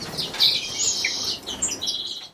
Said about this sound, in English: we have 5 chicks, all doing remarkably well at 10 days old